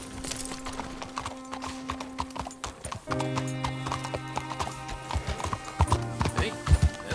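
Horse hooves clip-clop in rhythmic beats in Red Dead Redemption 2, sitting under a sustained tonal musical score that shifts partway through, with a short whinny and some game dialogue in the background.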